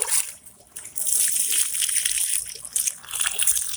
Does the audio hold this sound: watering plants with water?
yes